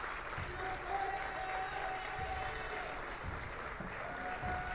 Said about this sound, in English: so that gets a round of applause